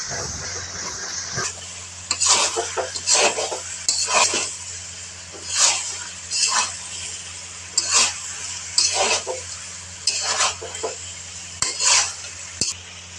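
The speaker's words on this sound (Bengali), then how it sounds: "পেঁয়াজ বেরেস্তা দিয়ে নেড়ে চেড়ে শুধু কষাতেই থাকবে" Beef kala bhuna with fried onions being stirred in a pot, a spoon scraping and clattering in repeated bursts over a steady close sizzle, with no voices.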